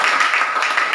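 Students in a tenth-grade vocational school classroom in Nias give a group of classmates a short round of applause, a brief, even patter of many hands clapping together.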